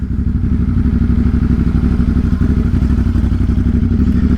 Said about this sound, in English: I decided to go for a little cruise on my bike